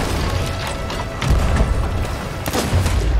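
A sniper rifle shot from an enemy player in the pirate game Sea of Thieves, a sudden heavy boom over a steady low rumble of ship and sea ambience, with a second sharp crack about a second later.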